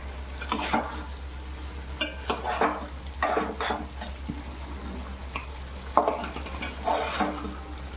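Cauliflower, pea and drumstick vegetable curry cooks in a pan, with intermittent stirring scrapes and soft sizzling in bursts over a steady low hum, no talking.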